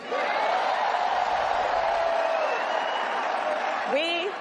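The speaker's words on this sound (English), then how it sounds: "clapping and applauding" A large rally crowd cheers and applauds in a dense, steady roar of clapping and whoops that swells throughout, with a shout breaking through near the end.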